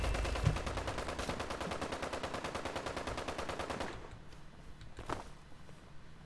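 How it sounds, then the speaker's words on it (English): Rapid automatic gunfire in the video game Fallout 76 rattles in a sustained burst, faint and far away, then stops, leaving a quieter background with a couple of isolated thumps. "In the distance, I hear gunfire."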